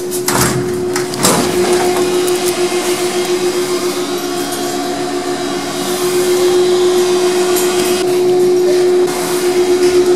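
Lift machinery running in a rooftop motor room in Elephant and Castle, London: a loud, steady mechanical drone with a fixed tone and rattling clatter over it, plus a couple of knocks near the start.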